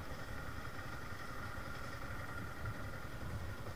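A motorcycle engine idles steadily as the bike is brought into a resort parking area in Sonitpur, Assam, a continuous low chugging hum, fairly quiet with no talk.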